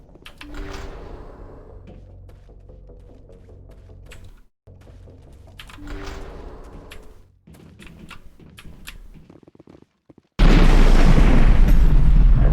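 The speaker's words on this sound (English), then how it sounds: "That was a detonator, Commander." Detonator blast in the game Mass Effect, a sudden very loud roaring burst that crashes in near the end after quieter stretches of clanks, thuds and musical tones.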